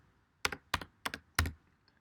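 Four sharp keystrokes on a computer keyboard as a username is typed, spaced about a third of a second apart, close and crisp with quiet gaps between and no talking.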